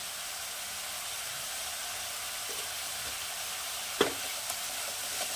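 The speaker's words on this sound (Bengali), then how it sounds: "এটাকে খুব ভালো করে একটু কষিয়ে নেবো প্রথমে। এবারে দিয়ে দেবো আদা রসুন বাটা।" Ginger-garlic paste frying in a pan for a duck egg do pyaza, a constant soft sizzle with a single sharp clink of a spoon partway through.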